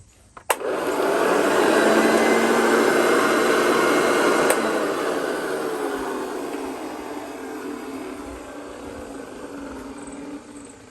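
A Hoover Junior Dirt Searcher 1354A upright vacuum cleaner switches on with a click and runs alone as a steady, loud whirring motor drone that eases slightly lower over the run.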